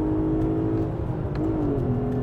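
A naturally aspirated V6 in a Volkswagen Golf 5 R32 drones steadily and loud close by, its pitch holding then dipping slightly and climbing again, with no voices.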